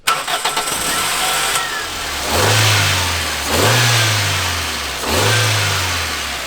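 A £500 Toyota Corolla with an engine swap to a G6R engine cranks and fires, then its engine is revved three times in steady, rising-and-falling bursts, loud and close with no talking.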